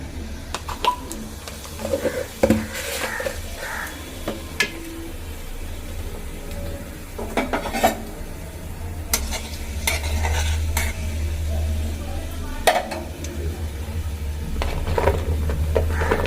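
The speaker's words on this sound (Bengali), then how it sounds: "তেল গরম হয়ে গেছে, দিয়ে দিচ্ছি 1 চামচ কালো জিরে" Black cumin seeds drop into hot oil for a drumstick and potato charchari, giving scattered small crackles and pops over a steady low hum, with a few sharper clinks along the way.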